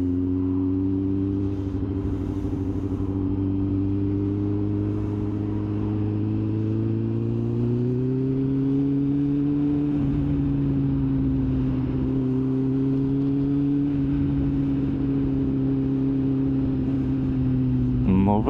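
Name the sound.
motorcycle engine while riding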